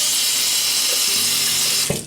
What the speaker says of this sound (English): People hate when I run the water.